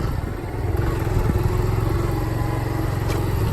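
A Kawasaki Z125 motorcycle engine revs under acceleration, producing a close, steady, throbbing low rumble with a rising, strained note throughout.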